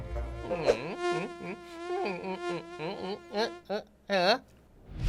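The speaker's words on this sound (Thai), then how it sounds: "มันมียุงเกาะอยู่ที่ตีนพี่อ่ะ" A mosquito gives a thin, high whine that wavers in pitch and comes in irregular bursts, rising and fading several times.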